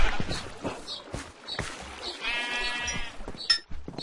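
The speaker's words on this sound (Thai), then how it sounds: "แกะเกิดออกไปหมดเลย" Sheep bleating in Minecraft, a drawn-out wavering bleat in the middle of a short stretch with game sounds and scattered clicks around it, under quiet talk.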